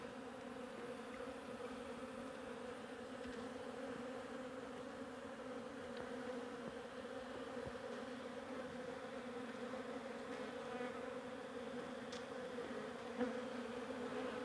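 A dense, steady drone of many honeybees buzzing around a hive, close and continuous with no pauses.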